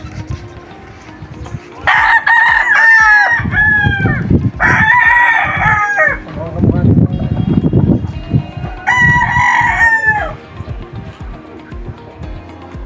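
Young gamecock stag crowing close by, three loud cock-a-doodle-doo calls spaced a few seconds apart, with scuffling and clucking noises in the gaps between crows.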